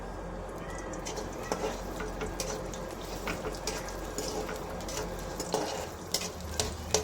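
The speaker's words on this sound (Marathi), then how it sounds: "सर्वप्रथम आपण कांदा तळून घेऊया" Soft sizzling of onion frying in a pan with occasional stirring scrapes and clinks, fairly quiet and close, with a low background hum.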